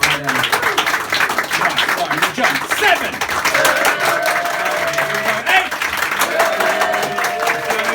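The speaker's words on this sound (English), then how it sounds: "let's start off at a level 5 round of applause for our next actor" Audience at a stand-up comedy show applauding and clapping steadily in a dense, continuous wash of sound, with someone talking over it.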